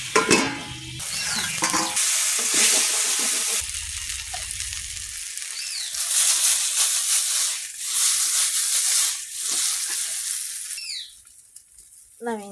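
Okra with green chilli, salt and turmeric frying in a pan, loud bursts of sizzling as the mix is stirred, rising and falling across the clip, with brief quieter gaps and a faint voice at the start.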